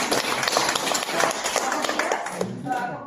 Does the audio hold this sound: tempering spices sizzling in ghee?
no